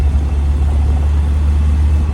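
A 1968 MGB roadster engine, rebuilt on a heritage shell, idles steadily right after starting, a loud close-up low rumble holding an even tone with no talk.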